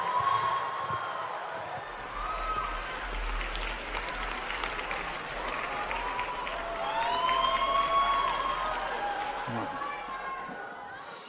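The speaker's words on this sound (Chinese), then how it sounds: "掌声有请" Sustained audience applause welcoming crosstalk performers onto a stage in a large hall, steady dense clapping lasting throughout with crowd murmur and a few scattered voices underneath.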